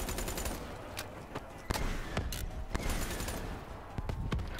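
Gunfire in a video game: rapid bursts of automatic shots crack out in close, sharp volleys over a dense, noisy game backdrop, with no voices over them.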